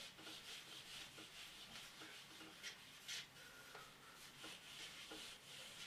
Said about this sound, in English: So I'll just rub this off.